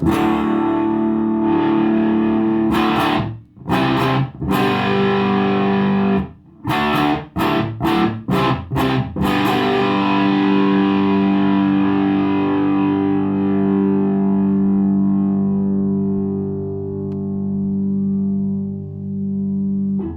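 Distorted electric guitar through a Big Muff Pi Triangle fuzz pedal playing a fuzzy riff with choppy stabs, then a single chord left to ring with long sustain, slowly fading.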